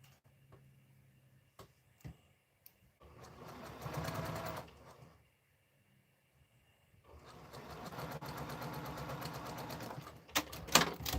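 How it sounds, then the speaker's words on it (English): A sewing machine stitching jelly-roll quilt pieces, running in two steady whirring bursts separated by a pause, with light clicks and handling before and after; fairly close but soft. "So I am just going to go ahead and sew it."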